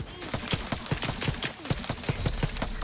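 Rapid bursts of gunfire in the video game Outer Worlds 2, a steady string of sharp shots at a quick, even rhythm, fairly loud and close, with no talk over them.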